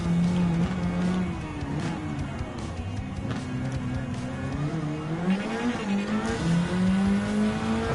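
A race car at full throttle through a curved straightaway in Gran Turismo 7, its engine droning loud and continuous with pitch rising and falling between gear changes, alongside a faint tire squeal.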